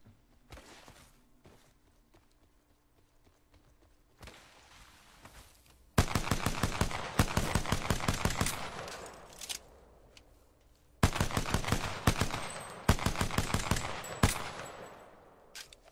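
In a video game firing range, rapid automatic gunfire rings out in two long sustained bursts after a few scattered single shots, loud and close with a dense rhythmic rattle.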